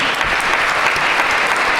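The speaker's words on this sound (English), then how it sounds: "Give them a round of applause." Loud, dense applause from a large crowd at a police academy graduation ceremony, steady and continuous throughout.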